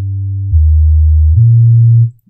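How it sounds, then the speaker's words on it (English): Deep synth sub bass preset from the Sub Magic sample pack, playing a loud, punchy sustained low tone that steps down to a lower pitch then back up before cutting off, alone with no voices. "It's very loud, very punchy. Just a great sub to use."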